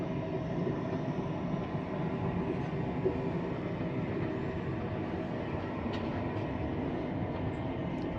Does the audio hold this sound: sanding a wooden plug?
no